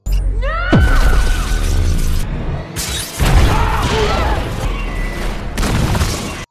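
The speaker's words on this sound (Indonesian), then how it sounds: "memicu ledakan bom yang mereka pasang, dan inilah penyebab gedung itu roboh" Loud booming blasts and crashing debris roll through repeatedly, with whooshing, shattering noise in a dense, chaotic rumble, from a bomb explosion bringing down a building.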